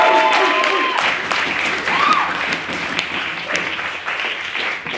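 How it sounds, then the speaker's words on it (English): An audience at a debating society competition applauds the Shannon Award winners, a full burst of clapping that carries on steadily, with a voice faintly audible beneath it at the start. "Can we have a round of applause for the winners of the Shannon Award?"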